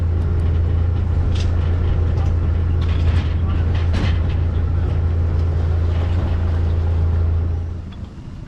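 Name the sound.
boat being launched on the river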